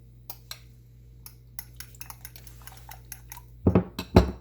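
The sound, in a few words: beating egg mixture with green onion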